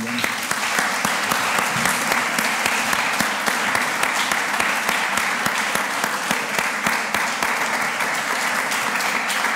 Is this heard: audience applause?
yes